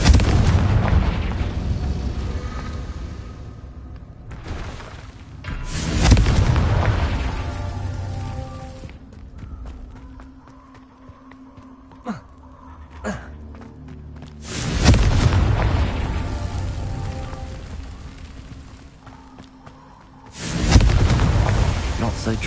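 Confringo spell blasts in Hogwarts Legacy go off in several heavy booming explosions, spaced apart with rumbling decay and scattered game effects and clicks between them.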